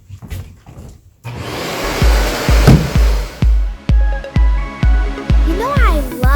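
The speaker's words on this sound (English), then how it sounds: "make sure you vacuum over there" A vacuum cleaner starts up after a few seconds of children's voices and runs loudly in repeated surging pulses as it is pushed back and forth, with a brief rising whistle-like tone near the end.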